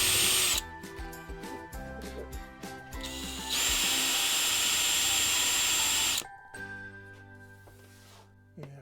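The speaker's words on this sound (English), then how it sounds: "so I'm just using a bigger drill" A power drill whirs in repeated bursts as an oversized bit countersinks holes in campervan ceiling cladding, stopping and starting, then runs steadily for a few seconds before slowing to a rattling whine.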